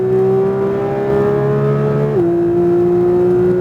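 Porsche 992 GT3 engine on a track, a loud steady high-revving tone climbing then dropping briefly at an upshift before pulling on, close and continuous with no talk.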